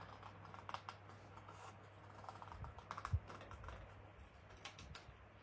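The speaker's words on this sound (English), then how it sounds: "I'm going to cut all this excess off because I don't want that." Tim Holtz scissors snip off excess paper on an art journal page, several quiet, crisp cuts and rustles scattered irregularly over a faint background hum.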